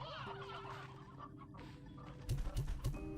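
Hens cluck in the video game Slime Rancher 2, a soft continuous chatter over a constant background hum, with a few louder, sharper clucks near the end.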